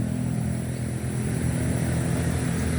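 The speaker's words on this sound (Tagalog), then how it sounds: "nakita niyo puro motorcycle lang, mga motor lang ang dumadaan" Motorcycles passing along a long highway toward Quezon make a steady, loud engine drone with low rumble that holds throughout, no talking.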